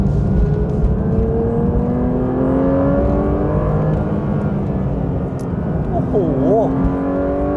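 A Porsche 911 S/T engine drones loud and close from inside the car, its pitch climbing steadily as it revs toward 9,000 rpm, with a man's brief exclamation over it.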